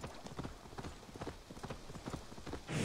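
Horse hooves clip-clop in a steady, close rhythm as a horse is ridden in Assassin's Creed Valhalla, with a burst of louder noise right at the end.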